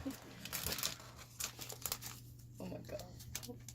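Trading cards being pulled from a freshly torn pack at a card break: soft crinkling and rustling of the foil wrapper in bursts, close but quiet, with people talking faintly over it.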